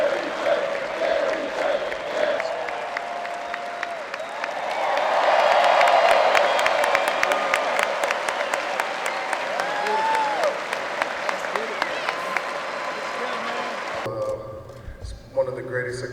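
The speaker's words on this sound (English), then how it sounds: "he fired up the crowd just a bit" A basketball arena crowd at an Ohio men's game against Miami applauds and cheers for a returning former player, a sustained roar of clapping that swells to a peak and then fades, with an announcer speaking over the noise.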